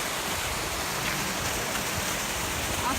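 A Black Forest waterfall pours in a steady, dense rush of falling water, close and continuous with no other sounds standing out.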